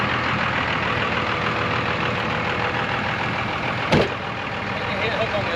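Two diesel trucks run together close by, stuck at 5 Mile, with a steady loud engine rumble and a knocking idle throughout, broken by a brief sharp knock or clunk near the end.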